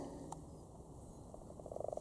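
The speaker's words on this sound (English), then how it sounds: "Crazy amount of frog spawning and frogs in my pond." Frogs spawning in a garden pond give faint, distant croaks that turn into a rapid run of pulsed croaking toward the end, with quiet outdoor ambience around them.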